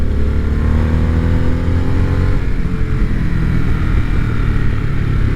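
A Harley-Davidson Sportster S motorcycle rides through corners with a loud, close, continuous engine drone whose pitch drops and shifts midway as the rider eases off and pulls again, with no voices over it.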